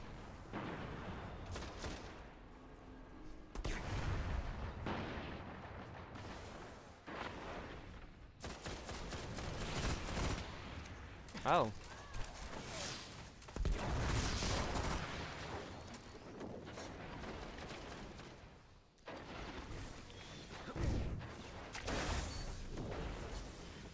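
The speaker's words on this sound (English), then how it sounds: "That was a perfect grenade throw." A grenade thrown in the shooter game Destiny goes off among bursts of gunfire, a mix of sharp shots and heavier booms with brief pauses between volleys and no talk.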